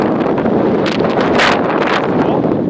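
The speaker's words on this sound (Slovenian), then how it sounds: "Zelo močno piha." Strong wind buffets the microphone on a sunny seaside pier in Portorož, a constant loud roar with gusty swells and rustling, no voices.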